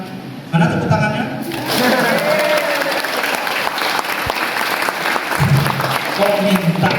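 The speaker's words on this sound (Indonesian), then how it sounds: "Mana tepuk tangannya?" A crowd at a community gathering on tolerance and diversity in a Muslim village breaks into loud applause after a prompt. A brief bit of talk comes first, then dense clapping follows, with voices heard faintly underneath.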